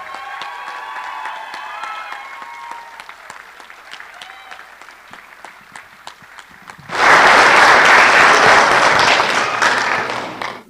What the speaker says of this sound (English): Let's have a round of applause for all of our recipients tonight.